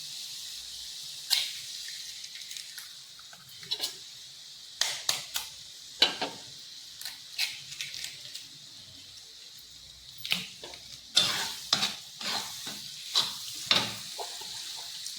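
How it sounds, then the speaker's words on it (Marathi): Eggs are cracked into frying onion and tomato for egg bhurji, with sharp taps and splats scattered over a low, steady sizzle from the pan. "आता आपल्याला त्यात अंडी फोडून घ्यायची."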